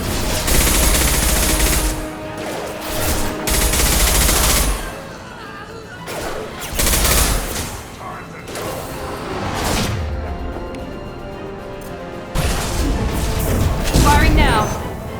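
Heavy sustained gunfire in a Mass Effect 2 Legendary Edition firefight, loud bursts and booms in several waves with brief lulls, under voices talking.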